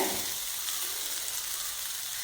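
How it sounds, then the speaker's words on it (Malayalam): Grated coconut is stirred in a hot pan for a Kerala fish mappas, giving a steady, soft sizzle with a faint scraping texture throughout and no talking. "നമുക്ക് നന്നായിട്ടൊന്ന് ഇളക്കി യോജിപ്പിക്കാം"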